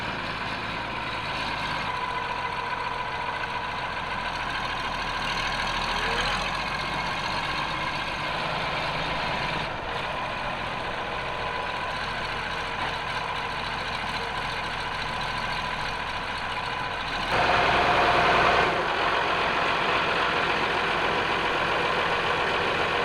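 A tractor fitted with pallet forks runs steadily on a cold winter day, its low engine drone holding even and loud throughout, with a brief rise in intensity near the end and no talking.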